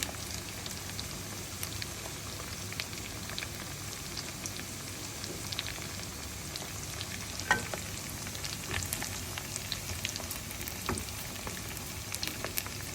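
Pork belly fries in a pan with a steady, close crackle and sizzle, dense popping bursts scattered throughout and no voices.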